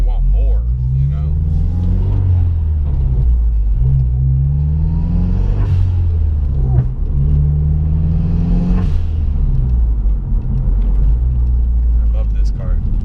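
A Mazda Speed3 engine heard from inside the car on a ride along, a loud low drone that climbs in pitch through repeated revs and gear changes, with people talking over it.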